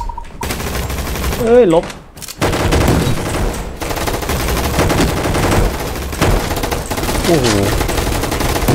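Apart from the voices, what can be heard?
gunfire from Roblox Gunfight Arena video game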